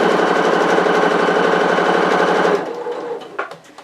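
A sewing machine stitches a fabric tube for a retro apron in one steady, loud run that stops abruptly, followed by a few soft handling clicks.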